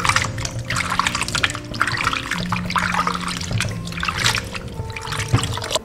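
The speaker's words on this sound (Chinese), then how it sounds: "捞起来清洗干净。" Blanched meat being rinsed clean under running water in a kitchen, a steady splashing trickle with bursts of sloshing and clattering as the pieces are handled.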